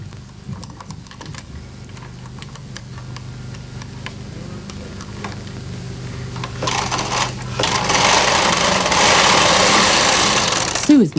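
A Bond Incredible Sweater Machine knits a row: light clicks and ticks during a quieter stretch, then the carriage swishes across in a loud, rough, sustained rattle that stops abruptly at the end, with a voice heard early on.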